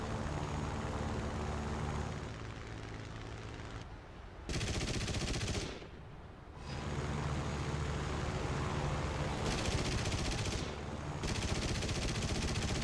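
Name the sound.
machine gun fire in a War Thunder air battle, from a video game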